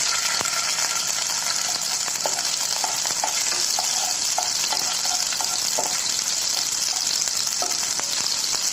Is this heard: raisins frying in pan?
yes